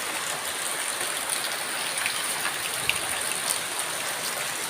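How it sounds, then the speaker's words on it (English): Steady rain falling in the Philippine countryside, a dense continuous hiss of drops on surfaces with occasional louder close drips, no voices. "Absolutely lovely bit of rain."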